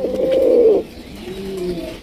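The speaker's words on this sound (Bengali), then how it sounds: "মাফেট হেলমেট কবুতর এত সুন্দর কেন ভাই?" Helmet pigeons cooing at a pigeon market: one drawn-out, throaty coo up close, followed by a softer, lower coo.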